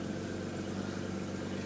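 A 1998 BMW 328is with 213,000 miles idles on a cold morning start, giving a steady low hum with an even, unchanging tone and no voices over it.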